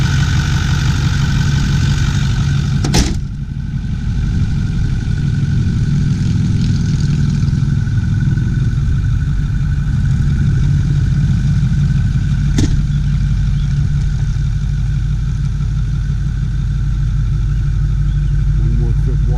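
A 2008 Ford F250 Super Duty with a 6.4 turbo diesel idles in a steady, deep, continuous rumble, close by, with a couple of sharp clicks in the middle.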